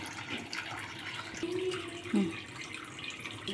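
Water running over a mutton head being cleaned and washed for curry, a steady tap-like stream with splashing and dripping, fairly close, with a few clinks and scrapes.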